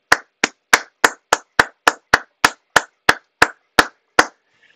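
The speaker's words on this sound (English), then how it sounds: "let's just give everybody a golf clap for the current presenters" A single pair of hands claps about fourteen times in an even, slightly slowing rhythm, loud and close, as a golf clap for presenters in a class held over a video call, followed by silence.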